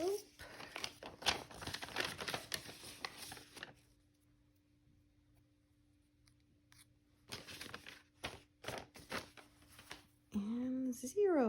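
An envelope gets handled with close paper crinkling and rustling in bursts, then a quiet pause before more crinkles return, with a high, sung or exclaimed vocal sound near the end.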